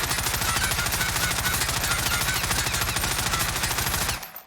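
FARA 83 rifle on full auto in Call of Duty Warzone, a long unbroken burst of rapid, evenly spaced shots, loud and close, cutting off abruptly near the end.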